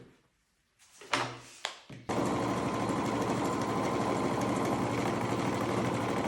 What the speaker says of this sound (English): just sew a bunch of scraps together